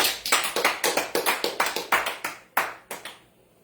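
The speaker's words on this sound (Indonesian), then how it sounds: "Tepuk tangan dong." About fifteen separate, sharp hand claps from a small church congregation, loosely rhythmic and fairly close, fading to quiet at the end.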